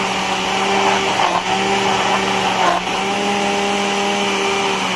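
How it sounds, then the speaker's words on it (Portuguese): Blender whirring steadily as it mixes pudding cream for a Christmas dessert, a loud continuous motor drone with a few brief dips, no voices over it. "Vamos bater isso aqui no liquidificador por"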